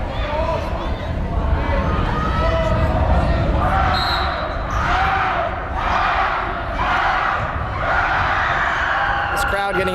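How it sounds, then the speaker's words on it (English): The home crowd at a boys' high school basketball game between Lakeland and Sandpoint roars in swelling waves late in a close game, with a ball bouncing on the court and voices under the cheering. "This crowd getting excited."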